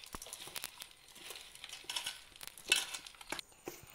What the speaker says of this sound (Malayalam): ഇനി വീണ്ടും ഒന്നുകൂടി നന്നായി മിക്സ് ചെയ്തെടുക്കുക.